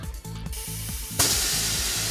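Air rushing from a car tyre with its valve core fully removed on a TWIN BUSCH TW X-98 tyre changer, a sudden loud steady hiss that starts midway and continues, over a low rhythmic machine hum.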